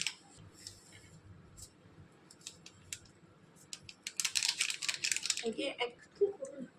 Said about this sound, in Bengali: এখানে আমি 1 প্যাকেট ইনো কেটে দিয়ে দিচ্ছি।